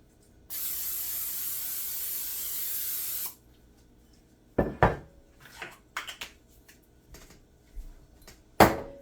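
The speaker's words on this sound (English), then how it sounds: "I'm gonna get a little bit of cooking spray" A long, steady hiss of cooking spray lasts about three seconds, followed by scattered clinks and knocks of a pan and kitchen items.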